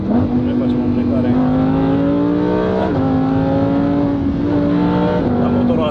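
Lamborghini with a naturally aspirated engine accelerating hard from inside the cabin, a loud continuous roar rising in pitch through several gear changes, with people talking over it.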